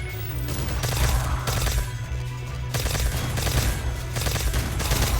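Loud, dense bursts of wonder weapon gunfire from a Garry's Mod weapons pack, several volleys in quick succession with short gaps between them, with no talk over them.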